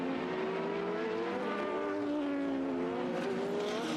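Several 1980s Formula 1 race cars battle for position, engines whining with rising and falling pitch as they close in and overtake, a steady loud roar throughout with no talk.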